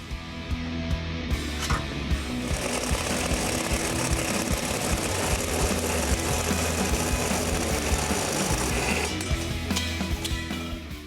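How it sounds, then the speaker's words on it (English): The exhaust collector pipe on a 1972 Chevy Chevelle is being cut, a continuous buzzing, rattling tool noise running close and fairly steady for the whole stretch, with no talking. "We'll cut that pipe off about right there."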